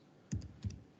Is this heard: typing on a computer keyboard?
yes